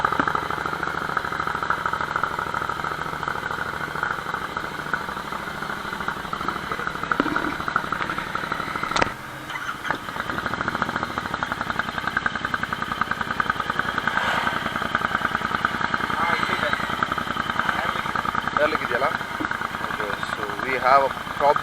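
A Royal Enfield Interceptor 650 with a loud aftermarket exhaust fitted with baffles runs steadily up close, its rumbling idle broken by a sharp knock midway and small throttle blips, with speech over it at times.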